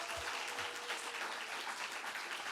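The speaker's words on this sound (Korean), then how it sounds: "우리 교육부 학생들과 선생님들을 위해서 박수 한번 쳐주시면 고맙겠습니다." A church congregation applauding after a Christmas performance by students and teachers at a Korean Presbyterian church in Hawaii, a soft, even patter of many hands clapping at a distance, steady throughout with no voices.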